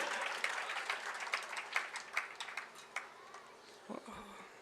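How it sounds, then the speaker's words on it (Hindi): An audience at a Jain religious discourse breaks into dense, continuous clapping that gradually thins out and fades, with a few voices and a brief low thump near the end. "ताली क्यों बजाई आपने?"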